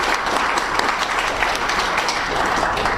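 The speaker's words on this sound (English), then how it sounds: "give yourselves a round of applause." A forum audience on reproductive health in Victoria breaks into sustained applause, many hands clapping in a dense, even wash that stays loud throughout.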